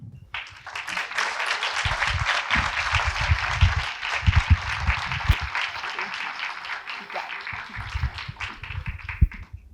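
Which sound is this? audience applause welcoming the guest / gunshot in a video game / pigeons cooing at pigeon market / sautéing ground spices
audience applause welcoming the guest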